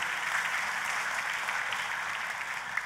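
Church congregation claps loudly and continuously, a thick, even wash of applause with no voices over it.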